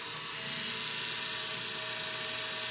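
An electric motor driven by a variable speed drive runs with a steady, loud electric whine and hum that stays constant throughout, with no voices.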